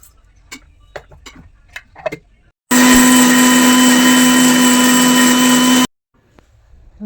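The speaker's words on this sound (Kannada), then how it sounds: "ಒಂದೆರಡು ಬೆಳ್ಳುಳ್ಳಿ, ಇವನ್ನೆಲ್ಲ ಹಾಕ್ಬಿಟ್ಟು ಚೆನ್ನಾಗಿ ಗ್ರೈಂಡ್ ಮಾಡ್ಕೊಳ್ಳಿ" An electric mixer grinder blends coriander, garlic, salt and a little water into chutney, one loud, steady whirring burst of about three seconds, with quiet clinks before and after.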